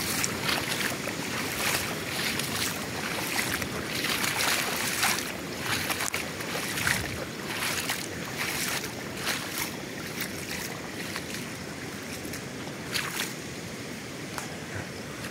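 Floodwater runs steadily down a road at the end of a lane in Boyd County, Nebraska, a continuous broadband rushing and sloshing heard up close, with faint wind and no voices.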